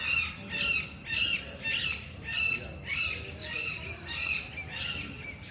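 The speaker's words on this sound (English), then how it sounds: "very noisy here again with the birds and the wildlife" Harsh, repeated bird squawks at Humayun's Tomb sound about twice a second in a steady rhythm, loud and fairly close over a noisy outdoor background.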